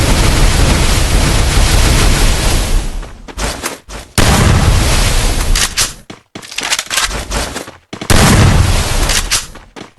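Rapid gunfire bursts in a PC shooter game, loud and close, arriving in several dense volleys separated by brief silent gaps, with no talking.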